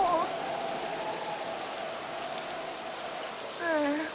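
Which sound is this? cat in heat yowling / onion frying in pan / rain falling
rain falling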